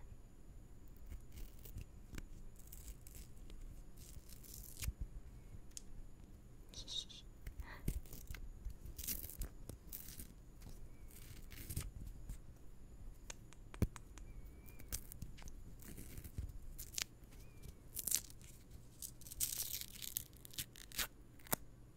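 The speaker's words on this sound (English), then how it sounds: "Let's peel back this paper." Paper being peeled back from a Munny vinyl toy, close and intimate, with soft crinkly tearing and scratchy bursts coming in irregular spurts, accompanied by quiet whispered speech.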